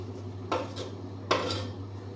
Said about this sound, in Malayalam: അപ്പം നമുക്കൊന്ന് ഇളക്കി കൊടുക്കാം കേട്ടോ